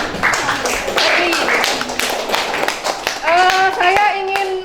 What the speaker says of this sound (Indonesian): Kasih tepuk tangan untuk siapa nih?